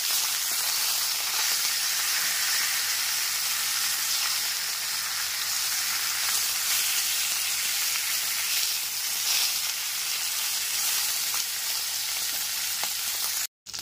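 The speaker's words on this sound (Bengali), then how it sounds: "গ্যাসের ফ্লেমটা হাইতে রেখে মাছের মাথাটা উল্টে পাল্টে খুব ভালো করে ভেজে নিতে হবে।" Fish heads coated in turmeric fry over high gas flame in a pan, giving a steady, loud, continuous sizzle with a faint stirring texture throughout, no voices.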